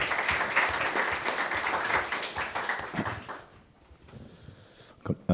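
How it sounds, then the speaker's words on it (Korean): An audience at an academic conference on Korean peninsula peace claps to welcome a professor to the podium. Dense applause fills the room for about three seconds and then thins out to a few scattered claps and a soft knock. "박수로 맞이하겠습니다."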